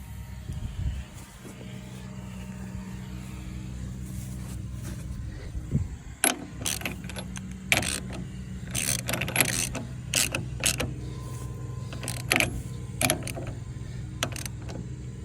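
A bolt on a John Deere 4020 tractor tie rod is tightened with a ratcheting wrench. The clicks come close and in irregular bursts over a low, quiet background hum, and metal taps and clanks break in now and then.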